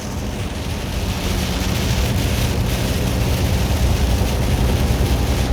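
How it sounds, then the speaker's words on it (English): Heavy rain drums steadily on a truck's roof, a loud, continuous patter that swells slightly over time, with no voices. "We get quite a bit of rain today."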